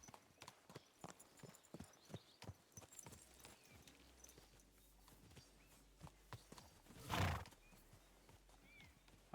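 Hooves clip-clop in a steady walking rhythm on a horse in the medieval game Kingdom Come Deliverance 2, then a loud, close whinny rises midway before the plodding steps resume.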